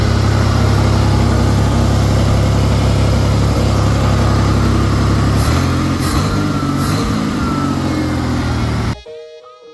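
A Ford Bronco II engine running with a newly replaced exhaust manifold and gasket, a loud, steady close-up idle rumble that shifts pitch partway through before cutting off abruptly near the end, with no talking.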